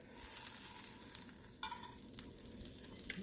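Black bean and poblano flautas sizzling in a pan, a soft steady frying hiss with a brief scraping clatter as one is turned over, followed by a few lighter taps; fairly quiet and close.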